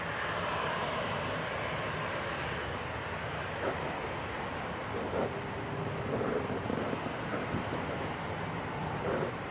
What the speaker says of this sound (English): Talking of props, we've got one on finals as well, a few miles out.